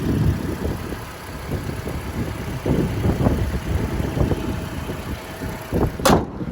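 The engine of a 2017 Toyota RAV4 GXL idles steadily up close in an open engine bay, a low even rumble with faint irregular knocks and a brief sharp click near the end, no voices.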